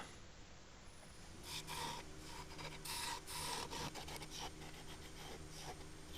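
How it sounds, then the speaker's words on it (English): A spindle gouge cuts a small wooden disc on a spinning lathe, giving a soft, continuous rasping hiss over the lathe's low motor hum, with brief louder bursts of cutting; quiet and close, no talking. "using the spindle gouge just to remove some material and help get the shape."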